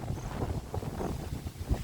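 Steady low wind from Typhoon Kristine in Bohol buffeting a microphone, a continuous rumbling roar with gusty swells, fairly loud and close, no voices.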